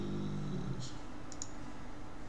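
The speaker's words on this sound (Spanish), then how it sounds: "Cuando uno hace clic en nuevo" Two or three quick, light clicks from a computer mouse, short and sharp, heard fairly close against a quiet room hiss with a faint voice at the start.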